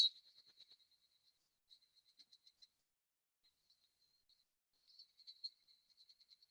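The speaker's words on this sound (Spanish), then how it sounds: "que es esta, que es la Tanna japonesa" A recording of the Japanese cicada Tanna japonensis plays as faint, high, rapid chirping phrases in short bursts separated by pauses, distant and quiet.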